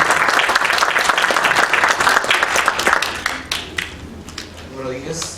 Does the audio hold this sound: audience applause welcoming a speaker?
yes